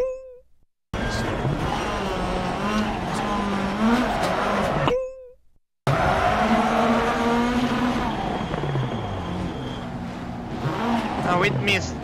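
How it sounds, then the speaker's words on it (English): A Subaru rally car driven fast on a stage, its engine revving up and down through gear changes with tyres skidding, loud and close, broken by two short gaps, while a co-driver's voice reads pace notes over it. "this Subaru is pretty good car"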